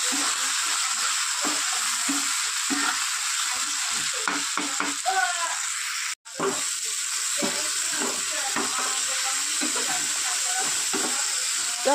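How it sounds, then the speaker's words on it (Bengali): Onion, tomato, green chilli and salt fry in oil, giving a steady crackling sizzle with occasional stirring taps and a brief cut near the middle. "এবার এই তেলের মধ্যে পেঁয়াজ, টমেটো আর কাঁচা লঙ্কা আর নুন দিয়ে ভেজে নেব।"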